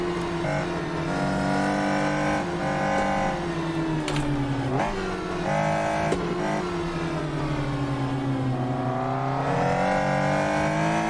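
A Caterham sports car's engine revs steadily in Assetto Corsa on a hill climb, a loud, continuous engine note rising and falling with gear changes and brief dips, heard up close with no talking.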